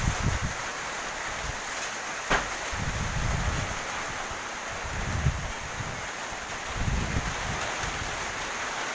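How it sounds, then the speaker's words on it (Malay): Strong, gusty wind blows during a rainstorm, buffeting the microphone with low rumbling bursts that rise and fall every few seconds over a steady hiss of rain, with no one speaking. "Angin kencang guys. Dahsyat kali."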